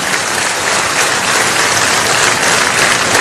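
A large audience claps at a business summit, a dense and steady burst of applause that stays loud and even throughout.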